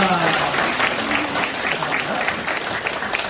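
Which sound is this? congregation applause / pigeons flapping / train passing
congregation applause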